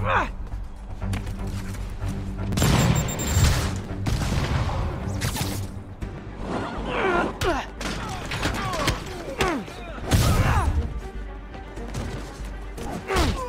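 Repeated heavy blasts and thuds from rocket launcher fire in the Marvel's Spider-Man video game, loud bursts at intervals among whooshes and mechanical clatter, with game music and voices mixed in.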